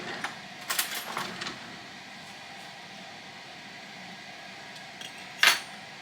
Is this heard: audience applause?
no